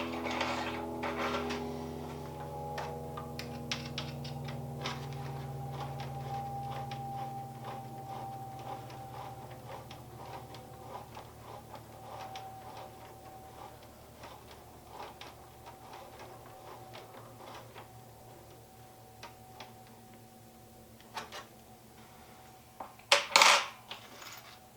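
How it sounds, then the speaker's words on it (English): Small metallic ticks and clicks of an Allen wrench working screws on a Traxxas Unlimited Desert Racer trailing arm, repeated faintly and steadily over a low hum, ending in a brief louder clatter. "Allen wrench."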